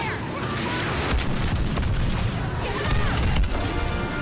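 Explosions from a bomber strike on an enemy walker in Star Wars Battlefront 2, loud rumbling blasts and crashing impacts piling together over a few seconds of dense battle noise.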